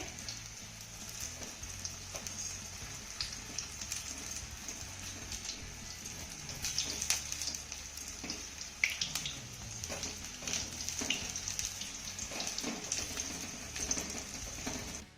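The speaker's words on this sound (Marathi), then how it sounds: "बाफले आपले तेलामध्ये घालून झाले की गॅसची फ्लेम आपल्याला अगदी लो करायची आहे" Baafle, Rajasthani wheat dough balls, fry slowly in oil over a low gas flame, making a soft, steady crackle and patter of small bubbling pops throughout, with occasional louder spits, fairly quiet and without voices.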